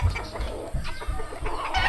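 Chickens cluck nearby in repeated short bursts over faint background noise.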